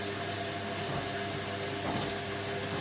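A Hoover A3060 Electronic 1100 washing machine runs a dilution rinse, giving a steady watery hum with water trickling and filling inside the drum. The sound is even and continuous throughout, with no talk.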